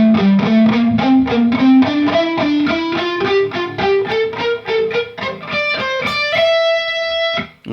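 Distorted electric guitar plays a solo slowly, a steady run of picked notes climbing in pitch and ending on a held, ringing note, loud and alone with no voices.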